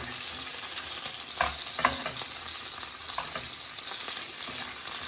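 Butter melting in a hot pan with minced beef steak gives a continuous bright sizzle, broken by a few soft stirring knocks near the start. No voices are heard.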